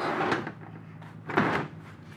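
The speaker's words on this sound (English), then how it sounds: "So now it'll slide, but it won't make a lot of noise." Upper sliding door assembly of a Sleekline Yamaha door running along its track, two quiet rolling slides with soft rumbling swishes and light knocks, close and without talk.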